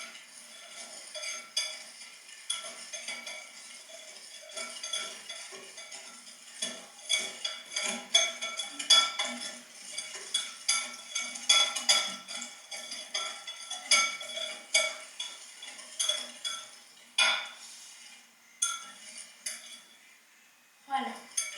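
Cake batter for a soft apple cake being whisked with flour in a bowl: steady clinking and scraping strokes against the bowl in uneven bursts, close by, with no talking.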